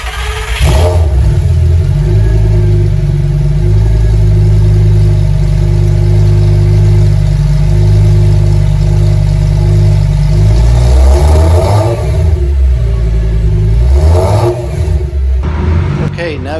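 A Lamborghini Gallardo engine, warmed up, is held at a steady 2000 RPM with a loud continuous drone close by, then briefly swells and rises near the end.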